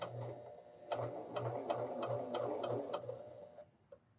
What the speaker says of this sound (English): I'm going to put my needle down, and I'm going to sew off at a point.